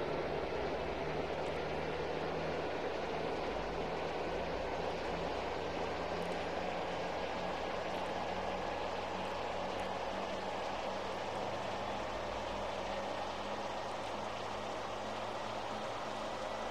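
An airliner takes off at Memphis in a flight simulator game, a steady broadband jet engine roar holding level and fairly loud throughout with a low rumble underneath, no voices.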